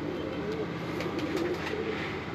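Teddy pigeon chick cooing softly in a loft in Karachi, a few low, soft coos over steady background noise.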